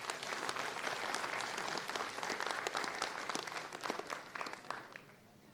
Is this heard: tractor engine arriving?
no